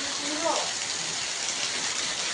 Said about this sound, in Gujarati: અરે દાદા વરસાદ પડે